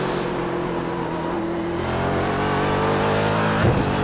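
A race car engine drones loudly and steadily on the Sebring International circuit, its pitch holding and then climbing slightly as the car runs through braking and gear changes, with a brief bump near the end.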